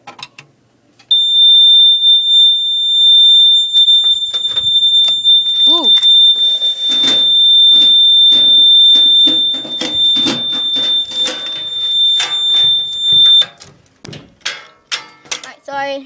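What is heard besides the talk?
smoke detector alarm sounding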